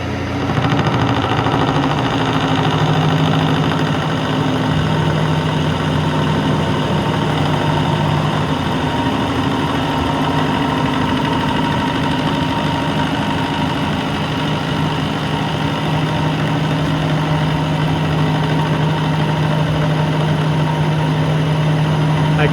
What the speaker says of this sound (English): This is going to be a full height cut once it gets rolling.